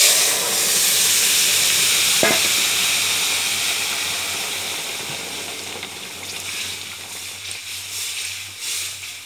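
Potatoes and pointed gourd hit a hot pan of oil and fried cumin, setting off a loud hissing sizzle that slowly settles and fades over several seconds.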